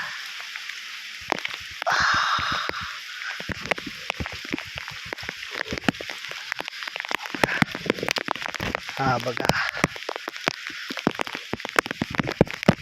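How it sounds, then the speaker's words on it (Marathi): Rain falls around a muddy crab burrow during crab catching, a soft patter with sharp crackling drops and splashes, while a person speaks briefly over it. "आता पाऊस आलाय"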